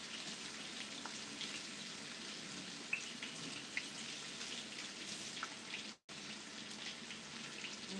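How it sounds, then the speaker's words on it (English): Green onions are rinsed under a running kitchen faucet, giving a constant close splashing hiss with a brief interruption partway through. "Green onion. I like to rinse them off because, you know, they've been in the store."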